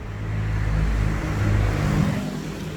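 A 2020 Isuzu Spacecab 1.9 DDi pickup engine revs in a steady, loud low rumble that swells and eases slightly, heard up close with no talking.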